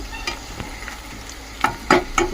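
Fried onions with turmeric are stirred in a pan, several distinct scraping strokes of a spoon against metal over a light sizzle, the strokes growing louder and quicker toward the end.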